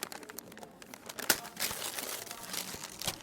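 Gift wrapping paper is torn and crumpled close by in an office setting, a run of crinkling rustles and short rips, with no voices.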